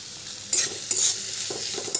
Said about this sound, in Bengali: একটু নাড়াচাড়া করে তাতে দিয়ে দিচ্ছি এবার পেঁয়াজ এবং লঙ্কা কুচি